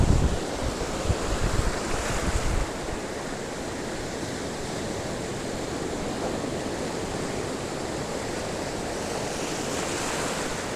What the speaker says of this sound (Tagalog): Lakas ng alon ay. Napakalakas.